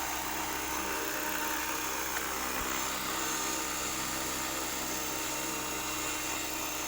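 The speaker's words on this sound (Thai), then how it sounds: "เอาละเดี๋ยวเราเอาเครื่องลงจอดแล้วนะครับ" An RC AH-1 Cobra model helicopter, a 500-size build, sets down to land, its rotor and motor giving a steady, loud, continuous whine and buzz with no break.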